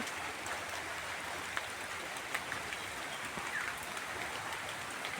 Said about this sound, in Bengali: শুধু বৃষ্টি পড়ে যাচ্ছে